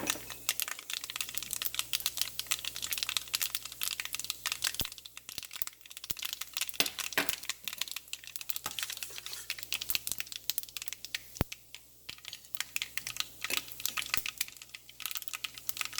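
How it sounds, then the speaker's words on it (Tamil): Mustard seeds splutter in hot oil, a faint, dense stream of rapid crackles and sharp pops that carries on without a break, with no speech. "நல்லா எண்ணெய் கொதிச்சிட்டுது நான் கடுகு போடுறேன் கடுகு நல்லா பொறிஞ்சோன்னு வந்துட்டு"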